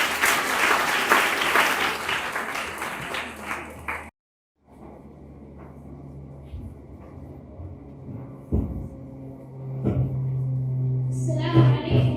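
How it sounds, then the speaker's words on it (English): Applause from the audience at a grade 6 graduation ceremony, loud sustained clapping that cuts off abruptly, followed by quieter room sounds, a few scattered claps and murmurs, with a swell of noise near the end. "Clap for them."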